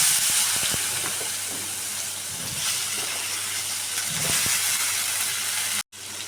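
Drumstick pods (shevga) crackle and sizzle in hot oil seasoned with turmeric, a steady close frying hiss with small pops and stirring scrapes, breaking off abruptly near the end before resuming.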